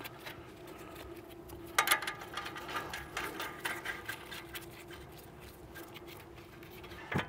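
A wrench tightening 21 mm nuts on the front control arm and ball joint suspension of a 2003–2014 P2 Volvo XC90 3.2. Close, rapid mechanical clicking runs in bursts with no speech.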